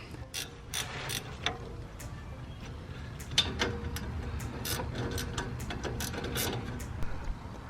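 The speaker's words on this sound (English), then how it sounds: "we're going to start by using a 13mm wrench or socket. We're going to take off the caliper" Ratcheting wrench or socket clicking steadily while loosening the 13mm brake caliper bolts on a 2004–2009 Dodge Ram, close up, with small metallic clinks and a few louder clicks, no talking.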